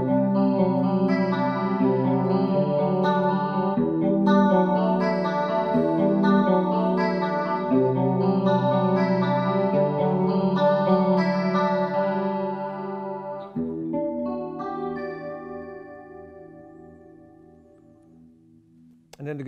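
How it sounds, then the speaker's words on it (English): A clean electric guitar played through a Roland Cube 80XL 1x12 combo amp with chorus and reverb, sustained ringing chords and melodic notes, close and steady, fading into a reverb tail at the end. "I had the same tone, but this time with a little bit of chorus and a different kind of verb"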